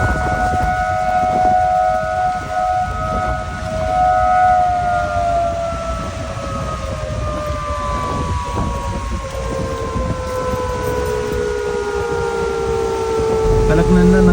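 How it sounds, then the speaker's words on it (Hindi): A loud civil-defence warning siren wails steadily during heavy Uttarakhand rainfall near the swollen Alaknanda river, two sustained tones slowly falling in pitch over a rumbling background of rain and vehicle noise. "अभी रास्ते में ये सायरन बज रहा है खतरनाक वाला"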